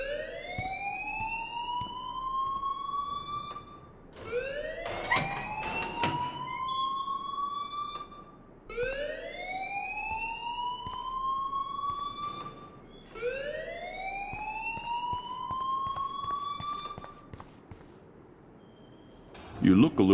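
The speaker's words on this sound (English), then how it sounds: "please turn off that alarm since that's your job" Fire alarm in the Life is Strange video game, a loud rising electronic whoop repeating four times in slow cycles of about four seconds, with voices talking underneath.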